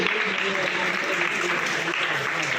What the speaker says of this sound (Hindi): तो आप सभी एक बार ताली बजाएंगे इस सभी के सहयोग के लिए।